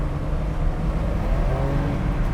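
Porsche 911 Targa engine in Sport Plus with traction control off, a steady, fairly quiet low rumble and hum with no sharp revs, held evenly for a couple of seconds.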